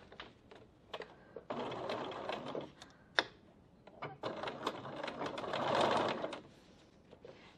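A sewing machine top stitching down the side of a vinyl bag strap, bursts of fast whirring stitches that start and stop between quiet pauses and handling clicks, close and moderately loud.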